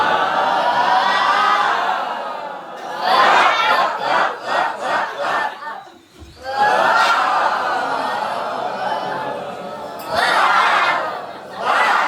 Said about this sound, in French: On va faire un petit échauffement vocal d'abord du public